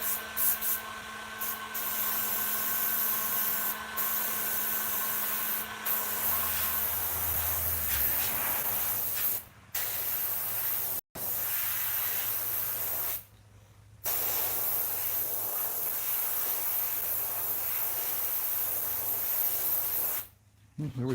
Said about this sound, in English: Okay, let's keep spraying.